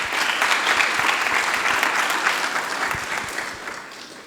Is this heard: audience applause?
yes